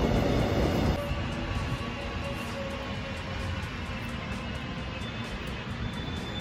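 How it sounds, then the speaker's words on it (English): Korean subway train pulling out of a station, a low rumbling roar that drops in level after the first second and then continues as a steady, fading drone. "The train just left."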